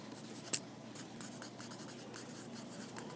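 Pen or pencil writing by hand in a classroom during a genetics lesson: soft, continuous scratchy strokes at a quiet, close level, with one sharper tap near the start and no talking.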